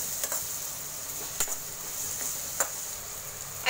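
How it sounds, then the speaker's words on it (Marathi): Spoon stirring a tomato, coriander and onion mixture in a pan for a potato bhaji, a faint steady sizzle under scattered light clicks and scrapes of utensil against pan, no talk. "आणि आता हे सगळं मिक्स करायचं."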